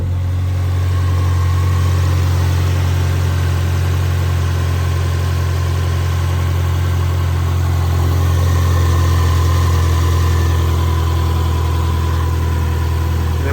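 A car engine idles steadily after a repair that cured its shaking, a smooth continuous low hum with mid-frequency drone, loud and close, running alone without talk for the whole stretch.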